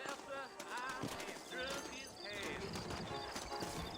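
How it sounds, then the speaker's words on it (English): Horses clip-clop at a trot in the Western video game Red Dead Redemption, set in New Austin, with steady hoofbeats and an occasional whinny running under continuous talking. "I got the horses saddled up and ready out front."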